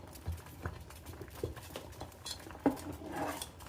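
Ragi flour is stirred in a pot while making ragi sankati, faint scraping and soft knocks of a utensil against the pot repeating irregularly at close range.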